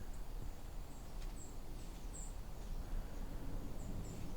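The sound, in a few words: white-throated sparrow seep calls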